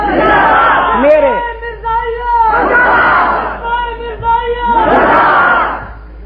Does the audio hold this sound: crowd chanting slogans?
yes